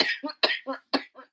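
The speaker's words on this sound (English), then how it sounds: "Now you're faking like you're coughing." Three forced, fake coughs in quick succession, each a sharp burst followed by a voiced catch, close and fairly loud.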